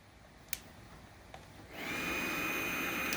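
Wood lathe switched on in forward at about 1100 RPM, a couple of faint clicks followed by the motor rising into a steady whirring hum with a thin whine, close by.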